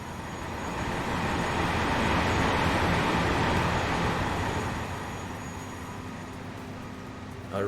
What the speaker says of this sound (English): I really do need to find the sound box for those trains and turn them down a bit.